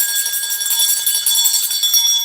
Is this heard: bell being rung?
yes